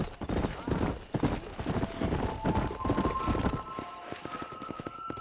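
Horses gallop in the video game Red Dead Redemption, a rapid, dense drumming of hoofbeats close by with a brief whinny, as a voice talks over the ride.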